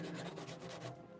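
Close, steady rubbing rasp of a nail file or buffer working back and forth over a fingernail surface to blend and smooth it, continuous strokes with no talk.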